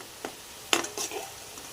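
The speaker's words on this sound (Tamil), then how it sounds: "சோயாபீன்ஸ் போட்டுக்கணும். ஒரு 10 நிமிஷம் வெயிட் பண்ணி நல்லா வணக்கிக்கோங்க" Soybeans sautéing in a pan on the stove: a few short scrapes and clatters of a spoon stirring them, set over a faint, steady sizzle.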